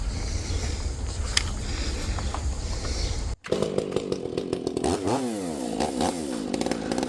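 A chainsaw roars steadily while cutting a log into woodturning bowl blanks near the pith, loud and close; the engine drops out briefly, then bites back in with a rougher, shifting snarl.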